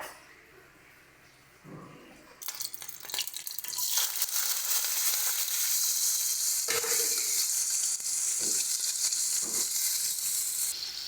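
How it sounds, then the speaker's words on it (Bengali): Shrimp dropped into hot oil for a Bengali dish, a sudden sizzle that swells into a loud, steady frying hiss with occasional stirring knocks. "তেল আমাদের সুন্দর মতন গরম হয়ে গেছে দিয়ে দেবো চিংড়ি মাছটা"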